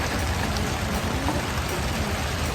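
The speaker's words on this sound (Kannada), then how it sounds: "ಇವತ್ತು ಮಳೆ ಆಗ್ತಾ ಇದೆ" Heavy summer rain pours down outdoors in a steady, dense hiss of drops striking surfaces, continuous and close throughout with no breaks.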